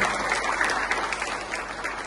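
Audience at a thanksgiving youth conference claps in a brief, brisk burst, many hands together, fairly close and steady for two seconds.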